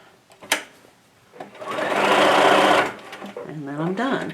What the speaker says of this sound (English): I'll put my machine like this and put it in reverse, and then just stitch backwards